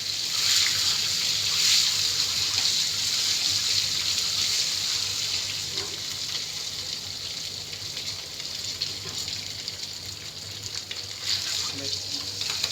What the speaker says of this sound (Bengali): প্রথমে আমি ডিমগুলো ভেজে নিব।